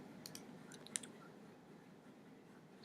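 A single computer mouse click while selecting a table of contents style in Word: a few faint, sharp clicks near the start, one slightly louder, against a quiet room hiss with no talking.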